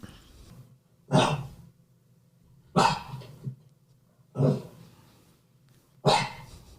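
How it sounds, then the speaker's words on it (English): A dog barks four times, single loud barks spaced evenly apart with quiet pauses between them, close by. "we'll move on to the next type of barking"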